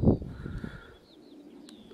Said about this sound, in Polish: tutaj w tym czasie jeszcze i tak gołębie przylatują